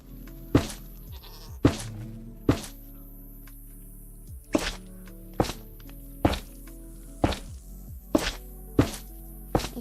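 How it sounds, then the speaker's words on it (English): A goat bleats in the video game Minecraft, several short nasal bleats interleaved with repeated sharp thunking blocky impacts at a fairly steady rhythm, close and clear over a quiet ambient bed. "Why is the goat floating?"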